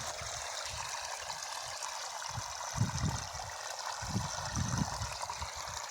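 Canal water runs into a tobacco field in a steady, broad rushing wash, with soft low rumbles and gusts rising and falling underneath.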